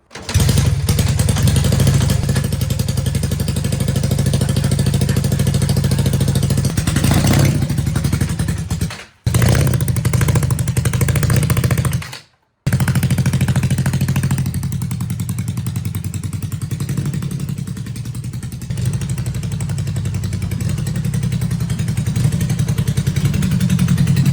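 A 1978 Honda CB400A Hondamatic motorcycle, saved from a scrapyard, runs loud and close with a steady low drone and rear wheel spinning, clattering and scraping throughout, with two brief dropouts midway before the engine settles back into its even note.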